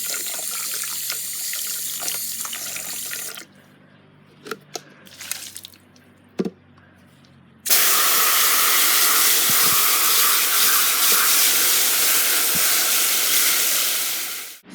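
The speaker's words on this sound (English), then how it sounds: "I use soap and water just to clean it." Running water gushes from a tap while a budgie nest box is washed out with soap, quieter handling and splashes first, then a loud steady stream of water filling and rinsing for the last seven seconds.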